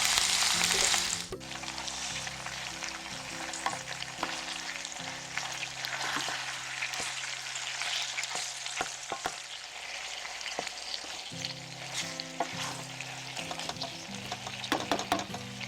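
Beef fat renders into tallow in a pan, bubbling and sizzling steadily up close, with occasional scraping stirs and small pops throughout.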